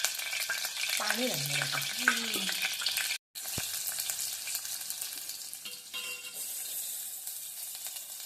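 Thin slices of pre-boiled kapa frying in a pan, a steady close sizzle running throughout with a brief gap partway, and a short tonal clatter near the start.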